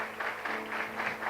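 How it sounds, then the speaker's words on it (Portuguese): A church congregation claps together in a steady, pulsing round of applause, the sound filling the room at moderate volume with no talk over it. "Dá uma salva de palmas para o pessoal aqui"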